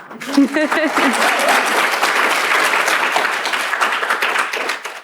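An audience at a disability summer school bursts into sustained applause, dense clapping that holds steady for several seconds; a voice speaks briefly at the start.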